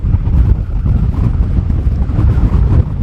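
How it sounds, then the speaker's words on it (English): Strong wind buffets the microphone on the cliff tops at Bennan Head on the Isle of Arran, a continuous loud low roar with gusty swells and no speech. "the wind's too strong for me to do anything"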